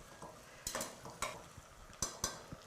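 Green chillies stirring in a hot pan with ginger-garlic paste for chicken kothu kari biryani, with a low sizzle under several sharp scrapes and clinks of a spatula against the pan, no talk.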